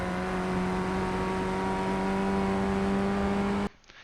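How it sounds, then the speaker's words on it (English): Ray FF1600 formula race car engine in the iRacing game at Mount Panorama Bathurst, holding a loud, steady high rev drone near the limiter for several seconds before cutting off abruptly. "make sure you've reached the rev limit before you shift up."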